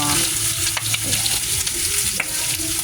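Pork humba fries in oily fat with a loud, continuous close sizzle while a utensil stirs and scrapes against the pan now and then.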